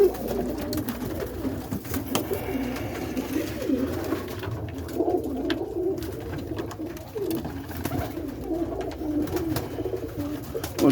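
Boston roller pigeons coo repeatedly inside a loft, soft throaty rolling calls that overlap steadily at close range with faint shuffling between them.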